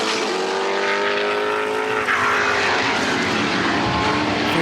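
Historic race cars, including the number 3 Lola T430, roar past at a Tasman Revival Series meeting in New Zealand, with a loud, rising engine howl that shifts pitch as the cars pass close by.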